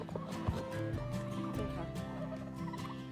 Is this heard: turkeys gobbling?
yes